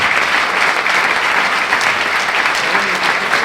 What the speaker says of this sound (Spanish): Yo le daría un fuerte aplauso.